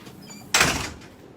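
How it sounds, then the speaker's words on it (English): A door shuts loudly in a single sharp slam indoors, followed by a brief decaying rattle, with quiet room tone before and after. "Sorry about that loud door close."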